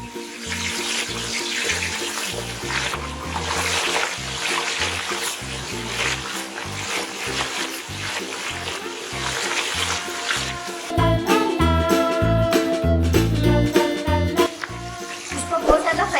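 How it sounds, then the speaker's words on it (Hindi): Chicken pieces dropped a few at a time into hot ghee in a karahi, frying with a loud, steady sizzle that grows denser and busier toward the end. "चिकन को मैं अब इसमें थोड़ा थोड़ा डाल के फ्राई करके निकालती रहूंगी।"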